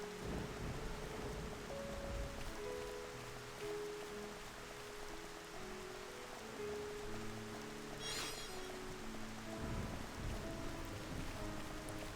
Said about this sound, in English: Some thunder, a little bit of rain, some light piano music